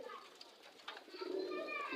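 Domestic pigeons, including young birds, coo softly at a home loft, with low murmuring calls repeating under faint background voices.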